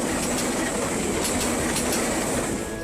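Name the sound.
Malabar passenger train passing at speed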